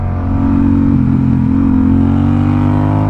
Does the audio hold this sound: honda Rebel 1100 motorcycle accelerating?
yes